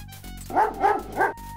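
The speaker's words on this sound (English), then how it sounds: "A bully of a dog terrorizes the poor ants as he playfully digs at their large anthill." Three quick barks from a dog digging at an anthill in King's Quest V, evenly spaced and fairly loud over a steady, tonal game music backdrop, with no talking.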